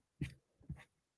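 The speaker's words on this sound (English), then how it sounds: "My son's dog wants to talk to me." A dog makes two short, soft whimpering cries about half a second apart, faint and close against near silence, with no talk.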